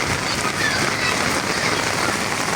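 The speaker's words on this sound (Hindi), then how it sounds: "बारिश माशाल्लाह से इतनी तेज़ है कि हर तरफ बारिश ही बारिश नज़र आ रही है।" Heavy rain pours steadily in a village, a dense continuous hiss of water on surfaces, loud and close with no pauses and no talk.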